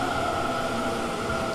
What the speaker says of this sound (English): Ayan, paparating na po ang ating train.